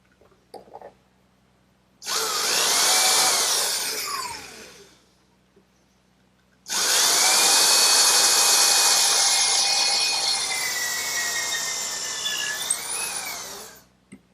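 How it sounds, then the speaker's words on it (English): A power drill whines into wood drilling a pilot hole in two bursts, a short one then a longer sustained run, with pitch dipping as the bit bites, near and loud. "I'll drill a pilot hole with a counter bore for some screws"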